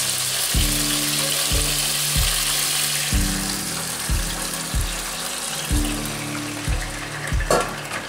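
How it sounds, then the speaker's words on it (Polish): Teriyaki sauce goes into a hot pan where salmon is frying. A loud, crackling sizzle holds steady up close, with background music playing underneath. "najwyższy czas, żeby wlać nasz sos"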